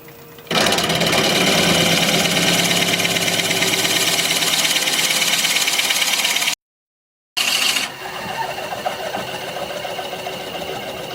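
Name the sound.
drilling into sycamore vase blank on wood lathe at 520 RPM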